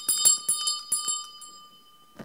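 Lepers' bells ring in bright, sharp strikes, several clustered in the first half and then fading into a long decaying tone, with one final ring near the end. The sound is fairly close and there is no talking.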